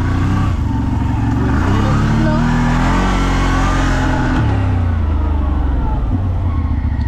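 A CF Moto 1000 engine accelerates hard up close, revving in rising steps through the gears, loud and continuous with a brief voice underneath.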